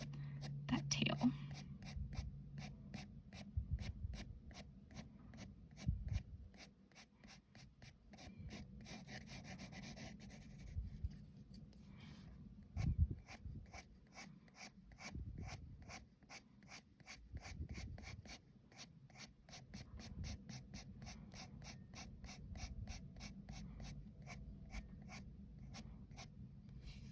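A pencil scratches repeated short, fine strokes across paper while sketching eyebrow hairs, a dense quiet rhythm of rapid scribbles that carries on throughout, close up and soft.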